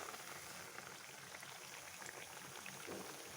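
Corn vadas (makka garelu) deep-frying in hot oil, a steady dense sizzle and bubbling crackle that runs unbroken at close range with no voices over it.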